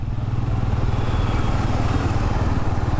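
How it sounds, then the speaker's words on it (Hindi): A motorcycle engine rumbles steadily and close, heard from the rider's own bike moving through busy city traffic with the helmet visor closed, a continuous low throb with light clatter. "देखो सामने से बाइक जा रही है, इधर बहुत सारा ट्रैफिक है"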